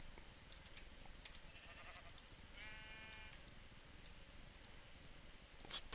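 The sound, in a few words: sheep bleating in Minecraft video game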